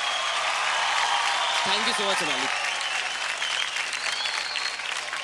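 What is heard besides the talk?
audience applause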